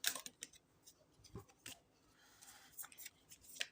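Tarot cards are shuffled in soft, irregular bursts of papery riffling and light clicks, faint and close, with brief pauses between flicks.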